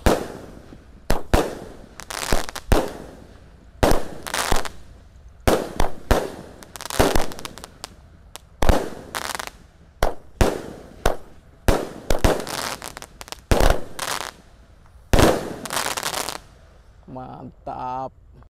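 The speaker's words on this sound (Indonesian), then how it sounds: "Roman Candle Lovely Flower 16 shot ngabuburit menyambut Ramadan. Kita nyalakan ya, semoga bisa menyala." Roman Candle Lovely Flower 16-shot firework fired at a Ramadan celebration, giving a rapid series of sharp, loud pops and bursts with brief gaps between shots, ending in crackling.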